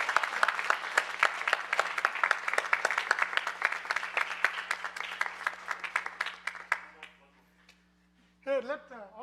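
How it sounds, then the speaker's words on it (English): A crowd applauds with dense, steady clapping that fades out, followed by a brief burst of sound near the end. "a big round of applause for him for doing a phenomenal job."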